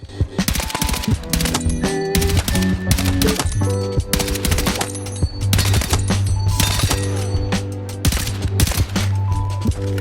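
Rapid, continuous bursts of DRS rifle hip fire in Battlefield 6, loud and close, with dense overlapping shots and background music with no pauses.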